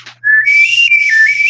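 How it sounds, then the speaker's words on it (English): A novelty wiener whistle gives one loud, sustained shrill tone that wavers slightly in pitch, heard alone and up close. "Let me get this wiener whistle out"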